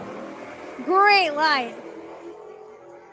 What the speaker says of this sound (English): This is a drag race.